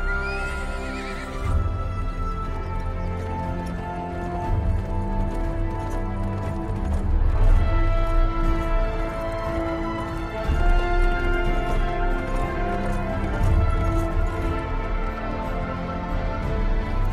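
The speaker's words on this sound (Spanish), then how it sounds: "Ensillad mi caballo. Rápido." Horse hooves clip-clop in a historical drama set around Margaret of Austria's arrival in Flanders, with a horse neighing, all mixed under a layered, sustained background.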